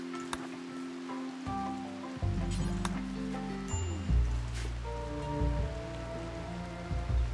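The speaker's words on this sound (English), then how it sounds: "nice bit of rain rolling in" Rain falls in the game Rimworld as a steady patter on surfaces that continues throughout, moderately loud, alongside low in-game tones.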